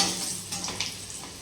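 Dried red chillies and garlic frying in oil for a gongura dish, giving a steady close sizzle with a few soft stirring scrapes and no talk.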